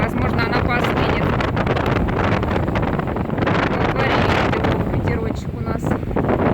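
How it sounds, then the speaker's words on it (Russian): Strong seaside wind at a bay with scattered yachts and boats in Gelendzhik on a hot day, loud continuous buffeting rumble across the microphone throughout, with muffled voices underneath. "Ветерочек у нас."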